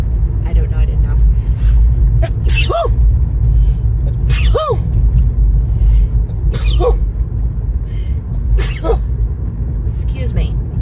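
A sneeze bursts out amid a restaurant's background chatter and low rumble, with a couple of other short vocal bursts nearby while people keep talking.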